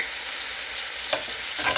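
Garlic shrimp frying in a pan with lime juice, a loud, continuous close sizzle with a couple of brief stirring scrapes toward the end.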